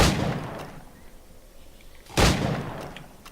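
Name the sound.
gunshots at targets in Black Flag video game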